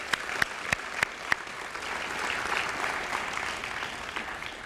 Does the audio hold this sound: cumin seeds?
no